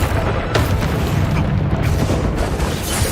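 A loud, dense boom from a Confringo fire spell bursts in the Hogwarts Legacy video game, with rumbling low-end explosions and crackling debris filling the whole stretch with no let-up.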